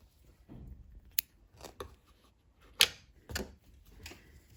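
Scissors snipping green yarn during Tunisian crochet work, a few sharp, close clicks and snips spaced irregularly amid faint handling rustle.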